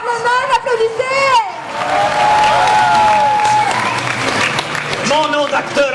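Crowd at a Paris Manga convention gaming session claps and cheers in a loud, sustained burst, with a voice talking over the start and again near the end.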